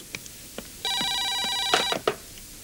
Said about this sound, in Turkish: Fikret Efendi zahmet olacak ama telefona baksanız